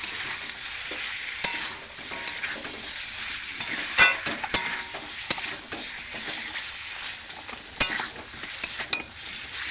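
Spiced food stirred and fried in a pan, with red chilli powder, turmeric and cumin powder added, sizzling steadily close by while a utensil scrapes and clinks against the pan in irregular strokes.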